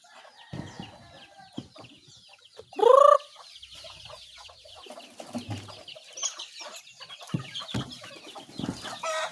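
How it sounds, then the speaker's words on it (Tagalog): Chickens cluck softly nearby with scattered pecking and shuffling, and one loud rising squawk stands out partway through. "Yan po yung ating mga manok."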